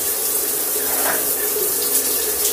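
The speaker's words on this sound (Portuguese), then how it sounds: "Agora correndo água, posso ligar ele" Water runs steadily from an electronic shower head, a Fame Elegance unit newly installed to replace an electric shower, producing a continuous close hiss and splash with no talk.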